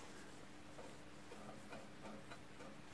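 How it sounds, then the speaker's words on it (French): A jointer-planer blade taps lightly against a straightedge ruler, making faint, evenly spaced clicks over a low background hiss in a quiet woodworking shop. "On l'entend, la lame touche la règle."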